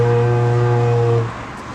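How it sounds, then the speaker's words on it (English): Bronze Age Irish horn sounded by buzzing lips, a single steady low drone, loud and close, with rich harmonics for just over a second before stopping abruptly. "So that's the Bronze Age Irish horn."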